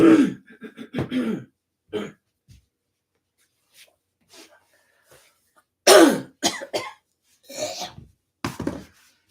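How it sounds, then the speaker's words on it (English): Several harsh, dry coughs and throat-clearing bursts close up, in irregular clusters separated by quiet pauses, with a few softer rustles between. "Cannot get over this cough."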